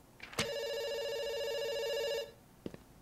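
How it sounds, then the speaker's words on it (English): A telephone rings once in the video game Dr. Langeskov, a steady electronic ring lasting about two seconds, clear and alone, then a faint knock or click follows. "It's ringing."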